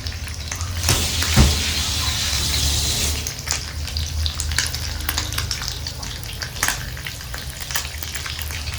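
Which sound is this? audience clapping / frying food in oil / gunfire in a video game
frying food in oil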